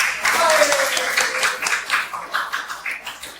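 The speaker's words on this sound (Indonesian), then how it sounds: "Jadi kita berikan aplaus." An audience claps together in a classroom, a dense burst of applause that is loud at first and then thins into scattered separate claps. A voice may be audible faintly underneath.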